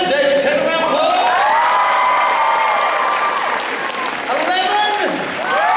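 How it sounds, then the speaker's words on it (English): A convention panel crowd in Wellington claps loudly and steadily while cheers, whoops and shouted voices ring out above the applause for the whole stretch. "Can I get a level 10 David Tennant round of applause?"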